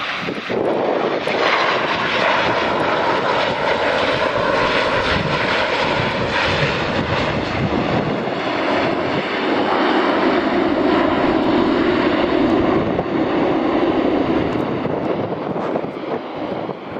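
An ATR turboprop airliner's engines roar steadily and loudly as it lands on a windy evening at Edinburgh Airport, runway 24, with a constant droning hum and some wind buffeting throughout.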